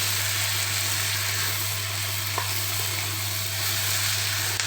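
Fermented fish (pla som) fries in a pan with a continuous close sizzle and crackle, a low steady hum beneath and one small clink partway through.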